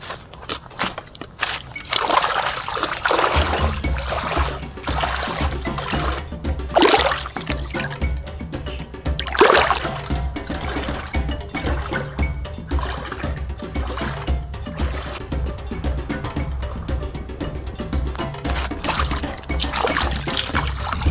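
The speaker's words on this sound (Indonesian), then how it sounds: "saya melewati sungai-sungai kecil yang ada di pinggir hutan ini" Small stream trickling and splashing along a forest edge, a steady watery babble heard close while walking past, with footsteps and brushing movement and a low continuous rumble underneath.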